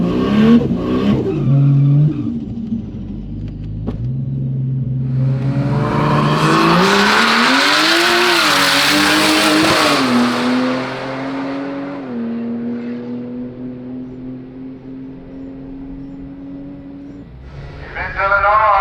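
A race car pulls out onto the track, its engine revving and climbing through the gears in a loud rising howl that peaks and then settles to a steadier drone, with brief voices near the start and end.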